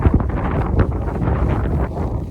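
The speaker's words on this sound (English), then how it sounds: "Still windy." Strong wind on an outdoor hiking trail where wild ponies roam, rumbling and buffeting the microphone in a continuous low roar with gusty surges and no speech.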